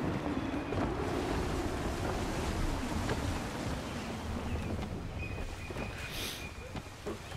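Sailing ship on the open sea in Assassin's Creed 3, with blustery wind and rolling waves forming a steady broadband rush and a voice talking faintly over it.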